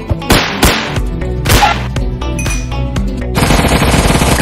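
Rapid loud bursts of gunfire from a Soviet-Afghan War gun add-on in Minecraft, sharp cracking shots followed by a sustained dense stream of automatic fire at the end, with no talk.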